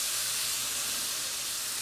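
A smashburger patty sizzles steadily on a hot griddle just after being flipped, a continuous close hiss with no other sounds.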